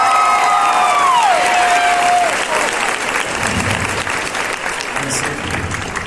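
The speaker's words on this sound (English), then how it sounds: "Give her one more round of applause." Loud audience applause fills a Comic Con Q&A panel for Stranger Things, sustained clapping from a large crowd with a few cheers, while a voice briefly rises over it at the start.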